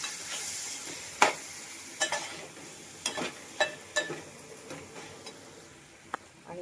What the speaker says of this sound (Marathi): हाच मसाला आता पुन्हा एकदा आपण पळीने मिक्स करून घेऊ